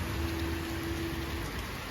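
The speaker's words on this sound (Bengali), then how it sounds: "আবার বৃষ্টি।" Steady rain falls outdoors, a continuous even hiss with no distinct drops standing out. A faint low hum runs underneath.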